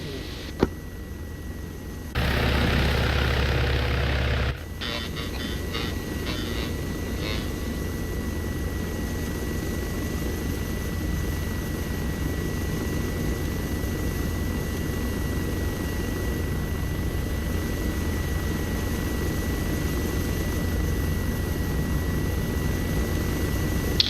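A helicopter in Arma 3 drones with a steady, continuous rotor and turbine hum throughout, a brief louder swell early on, heard from inside the cabin at an even level.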